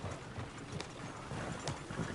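Horses in the Red Dead Redemption 2 video game clop along with quiet, muffled hoofbeats under a low, steady ambient rumble, with a couple of brief sharper accents.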